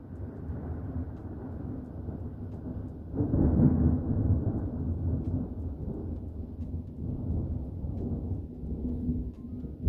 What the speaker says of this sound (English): we are in the middle of some form of a storm, and I don't know if you guys could hear it, I heard the actual, thunder